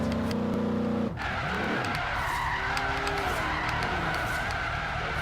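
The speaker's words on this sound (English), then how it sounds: "You just lay down the e-brake and you just drift for days." A Crown Victoria Police Interceptor V8 drifting in Forza Horizon 3, its engine droning steadily and loud while tires squeal and skid continuously through the slide, with no talk.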